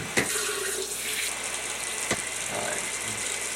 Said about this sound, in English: Wash that real good.